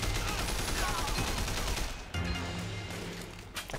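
In the video game Triad Wars, enemies armed with guns fire a rapid, dense burst of gunshots that cuts off abruptly, followed by a quieter tail with a few scattered sounds.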